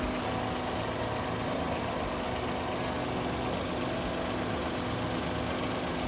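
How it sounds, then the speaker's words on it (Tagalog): A small 660cc minivan engine idles steadily at close range, a smooth, even hum with a faint mechanical tick and no voices. "Ito yung ating engine. Ayan, tahimik na tahimik. 660cc."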